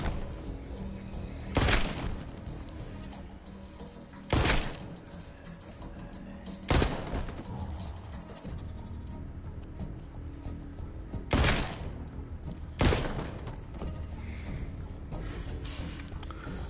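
Gunshots ring out in The Walking Dead: Onslaught video game, about five sharp, loud blasts spaced several seconds apart over a low, steady game ambience.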